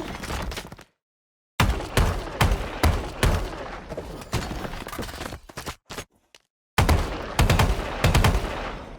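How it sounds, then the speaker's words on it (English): Rapid automatic gunfire from the Dolmir's Revenge weapon skin in the VALORANT video game, loud close bursts of shots separated by brief silences, with quieter mechanical reload clicks between volleys. "how it sounds when doing simple things like shooting and reloading"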